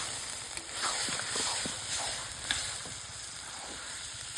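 Country duck meat sautés in a pan for a duck curry, a steady, fairly quiet hiss and sizzle with scattered soft stirring scrapes and occasional small clicks.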